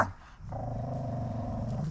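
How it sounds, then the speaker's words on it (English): A dog growls low and continuously over its ball, a close rumbling snarl that starts after a brief pause and holds steady to the end. "He's growling a little bit."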